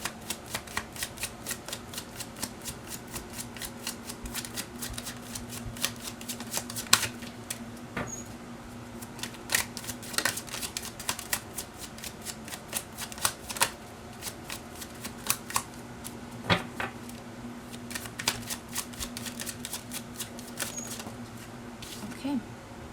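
Oracle cards shuffled by hand in a rapid, continuous riffle of crisp flicks and slaps, close up, with soft background hum throughout and a few sharper taps.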